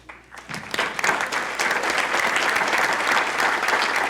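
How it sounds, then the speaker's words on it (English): At an annual meeting and legislative program, the audience applauds the board, clapping rising quickly from a few hands to loud, dense, sustained applause from a large room. "I want to give them a round of applause"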